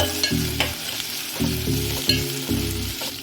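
Ginger frying in hot oil sizzles loudly and close, with a few sharp spatula scrapes and stirring clatters over a steady crackle. No voices.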